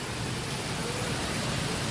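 Heavy rain pours down during a storm, making a dense, unbroken wash of noise at moderate level with no voices.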